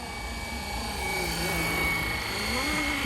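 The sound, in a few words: Flywing RC helicopter flying and braking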